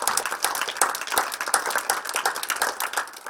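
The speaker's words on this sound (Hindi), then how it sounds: "आप मेरे लिए फिर से एक बार तालियां बजा सकते" Audience at a Panchashil Buddha Vihar community gathering claps in a dense, steady round of applause, many hands blending into a continuous crackle that holds at even loudness throughout, with no speech over it.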